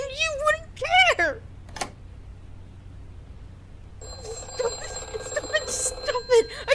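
A telephone rings in bright, repeated trills, with a voice speaking before and around the ringing.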